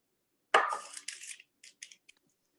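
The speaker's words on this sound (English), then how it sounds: "I like to use scissors just to poke my air vents" Scissors poke air vents into pastry set on parchment paper on a baking pan, giving one longer crisp scrape followed by several short snips and taps close by, with no talking.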